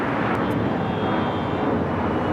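A passenger airplane rolls for takeoff at LAX, its engines a loud, steady broadband roar that holds constant throughout with no pauses.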